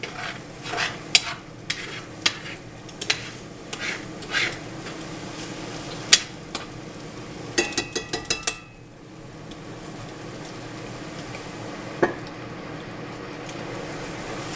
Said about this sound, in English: Keep it, stirring it. You don't want it to stick.